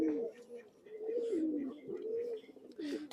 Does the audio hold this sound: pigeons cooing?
yes